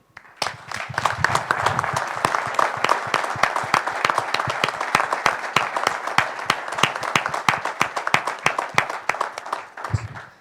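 An audience at an agricultural conference session gives a sustained round of applause in tribute, dense continuous clapping that swells and then tapers off near the end, with almost no talking.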